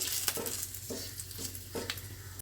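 A bay leaf sizzles in very hot oil on a low flame as a cabbage and tomato vegetable dish begins, giving a steady close hiss with a few sharp scraping stirs spaced through it.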